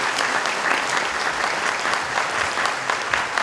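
Audience applause following a women's chamber choir performance at a charity concert, a dense, steady wash of many hands clapping throughout, fairly loud and sustained with no voices on top.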